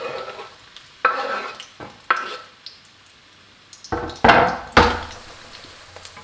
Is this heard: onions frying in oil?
yes